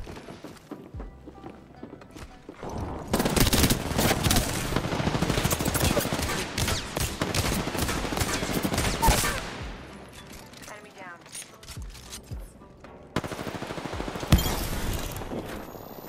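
Long sustained bursts of automatic gunfire in the battle royale game Apex Legends, loud and dense for several seconds, then fading and returning in a sharp burst near the end, with a voice talking at times.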